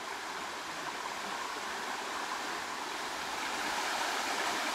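Flowing mountain stream at Suoi Tien on Cam mountain in An Giang, a constant even rush of water heard alone, moderately loud with no talk.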